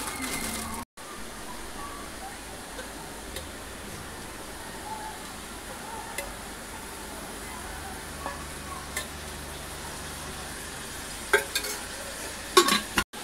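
Onion frying in a pan in a Maharashtrian home kitchen, a steady broadband sizzle running throughout with occasional clinks and stirring sounds toward the end, fairly close but moderate in level, with no one speaking.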